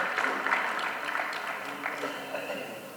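Applause from the audience at an Urdu poetry mushaira greets a guest as he comes up, a steady wash of clapping with some voices mixed in that lasts about three seconds.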